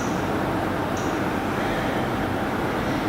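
Steady traffic going by outside during a quiet relaxation session, a constant broadband road rumble with no distinct passes, heard alone.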